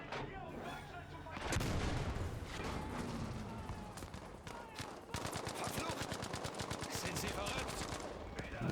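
Battlefield V combat sounds of a tank gun and gunfire: a dense, loud barrage of booms and rapid automatic bursts, with continuous rattling fire in the latter half and voices talking over it.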